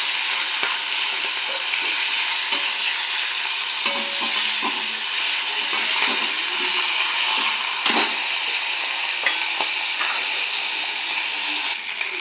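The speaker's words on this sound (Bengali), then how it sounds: "তেলটা গরম হয়ে গেছে এবার মাছগুলো একটু ভেজে নেব" Pomfret fish sizzles loudly in hot oil, a constant crackling fry with occasional scrapes and clinks of stirring, close up and without talk.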